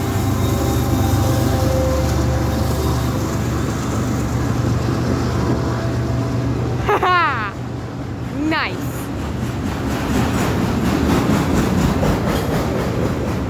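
BC Rail heritage locomotive and train rolling past at Kalar Road in Niagara Falls, Ontario, a loud continuous rumble throughout with two brief horn-like rising tones in the middle.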